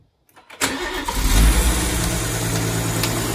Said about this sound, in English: You seen the car started.